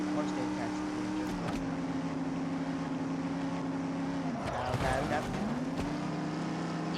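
A damaged car from the BeamNG racing game, radiator knocked loose, drives along a mountain race course with a steady engine tone, dipping and swelling twice as it shifts or slows, heard alone at moderate level.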